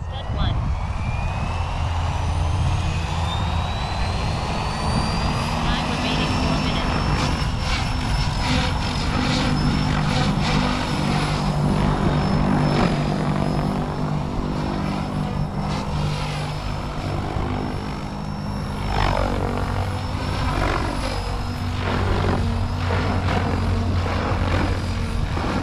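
A SAB Goblin RAW Piuma 700 RC helicopter with a new Sunny Sky 6S motor whines and whooshes steadily in flight, its pitch rising and shifting over a loud continuous rotor drone, with people talking over it.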